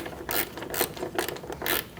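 Bolt threaded in by hand on a 2008-2014 Mercedes-Benz C300 headlight, over a flat washer: four short ratcheting scrapes in a steady rhythm, close and fairly quiet, with no talking.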